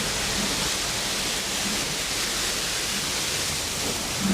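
The Cascata Rio do Rastro waterfall on the Serra do Rio do Rastro gives a continuous broadband rush of falling water, steady and fairly loud, with no voices over it.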